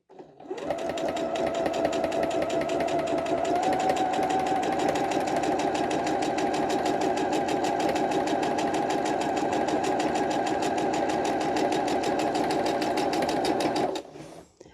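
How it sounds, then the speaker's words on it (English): A sewing machine stitches a quilt block along a drawn line, running at a steady fast rhythmic whir for about thirteen seconds before stopping abruptly, close and alone without talk. "we're sewing right on that line."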